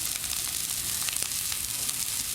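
Breadcrumbs and parsley frying in a pan for a clam and bacon dish, a dense, continuous crackling sizzle with faint scrapes of stirring, close and without talk.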